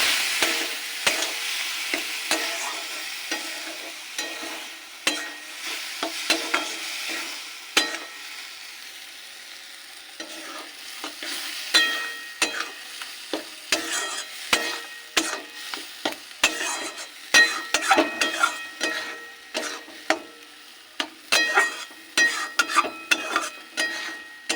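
Dal sautés in a pan, a frying sizzle under frequent scraping strokes of a spoon, the stirring growing busier and more rhythmic toward the end.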